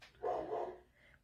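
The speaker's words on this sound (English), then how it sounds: "My dog is barking." Dog barking faintly from downstairs at a delivery driver at the door, one short muffled bark heard alone at a distance.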